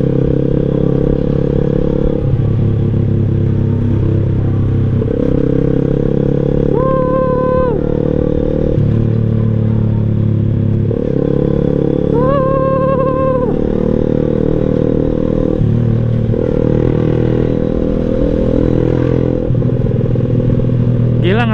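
Engine of a small clutchless MX motorcycle on an Indonesian road ride, a loud steady drone heard up close with the pitch stepping up and down as the throttle changes, and brief higher tones rising twice.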